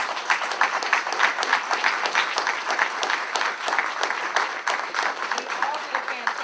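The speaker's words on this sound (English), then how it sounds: "Give them a round of applause." Steady, sustained applause from a seated audience at a legislative candidate forum in North Minneapolis, many hands clapping continuously at moderate volume throughout.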